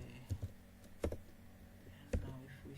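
Computer keyboard typing, a few sparse, faint key clicks spaced irregularly over a quiet room background.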